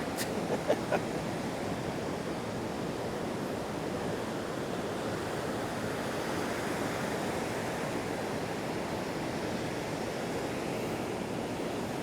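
Ocean surf washes onto the sand at South Beach Park in Boca Raton, Florida, a steady, even roar of breaking waves with faint wind, a couple of tiny clicks at the start and no talking.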